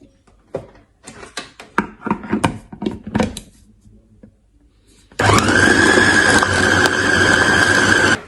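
A loud blender whirs steadily for about three seconds after a stretch of clattering and tapping, blending beef with ice water, its motor holding an even high-pitched drone.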